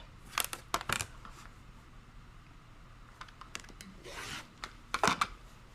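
A 3.5 inch fabric strip for quilting is cut with a few sharp crisp clicks and snips in short clusters, close and fairly quiet, with a brief soft rustle partway through.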